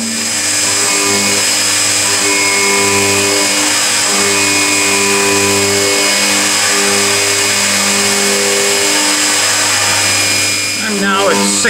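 A Novakon Torus Pro CNC milling machine spindle cuts aluminum at 6,000 RPM, giving a steady, loud, sustained machine drone with layered tonal hum that runs unbroken for nearly the whole stretch before trailing off at the end.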